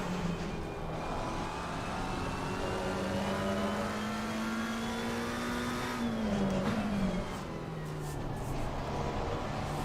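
A race car on a flying lap of a circuit, its engine note climbing steadily through the gears before dropping sharply under braking and then pulling again, loud and close throughout.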